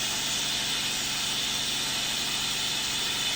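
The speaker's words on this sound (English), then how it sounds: "We're using compressed air for coolant." Compressed air blasts steadily as coolant while metal is cut, a loud, unbroken, close hiss with a faint low rumble beneath it and no pauses.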